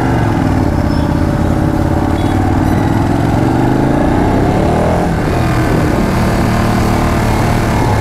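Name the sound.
motorcycle engine and exhaust while riding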